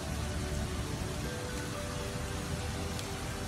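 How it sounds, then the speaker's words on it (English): A mix of hail and frozen rain falls hard and steadily in late August, a dense, close hiss of pelting ice and water with no pauses. "Look at the amount of frozen water and hail mix."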